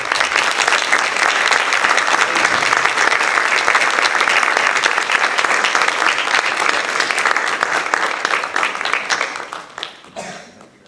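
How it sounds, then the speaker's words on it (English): Sustained audience applause fills a school board of education meeting, loud and steady for about nine seconds before tapering off near the end; no talking over it. "Let's offer her a round of applause."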